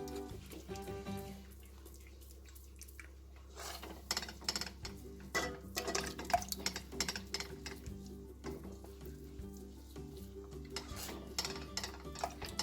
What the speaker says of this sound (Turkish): O arada hiç durmadan karıştırıyorum tabii ki